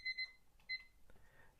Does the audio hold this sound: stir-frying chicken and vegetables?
no